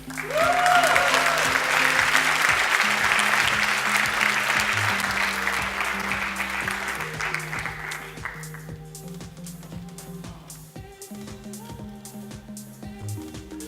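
Sustained applause from a graduation ceremony audience honouring the graduates, loud and dense at first, then gradually thinning and fading while background music plays underneath.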